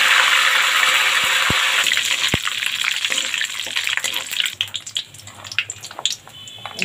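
Whole cinnamon and bay leaves dropped into hot oil, giving a loud bright sizzle that gradually settles into softer crackling and bubbling over several seconds, close and without speech.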